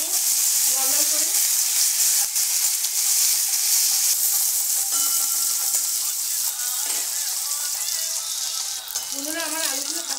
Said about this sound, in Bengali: আলু দিয়ে আমি একটু ভালো করে ভেজে নেব, লাল লাল করে